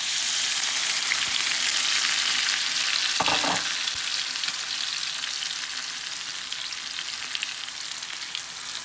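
Onions and green chillies frying in a pan give a steady, loud broadband sizzle, with a brief stirring clatter around the middle and no talking.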